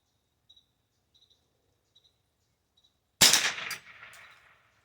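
An S&W 15-22 .22LR rifle fires CCI ammunition, giving one loud crack with a short decaying echo after a few faint chirping insect-like ticks in otherwise quiet surroundings.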